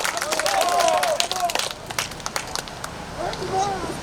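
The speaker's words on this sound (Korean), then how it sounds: "큰 박수 좀 부탁드리겠습니다." Rally crowd at a Vietnam War veterans' gathering breaking into applause, a dense sustained clatter of many hands with a voice calling over it, fading slightly then swelling again near the end.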